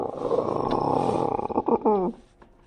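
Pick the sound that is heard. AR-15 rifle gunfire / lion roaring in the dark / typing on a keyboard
lion roaring in the dark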